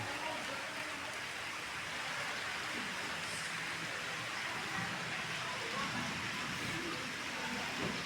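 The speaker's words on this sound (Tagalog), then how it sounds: "umulan na po umulan na talagang palagi na lang Umuulan." Steady rain falls outdoors near flowering plants, a dense, even hiss that holds at the same level from start to finish, with a faint voice showing only briefly beneath it.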